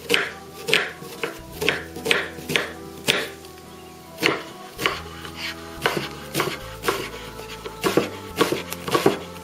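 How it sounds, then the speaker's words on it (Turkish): Steady knife chopping of onions on a board, close and rhythmic, with a quick run of cuts, a brief pause, then more chopping. "Elimizden geldiği kadar ince doğrayalım."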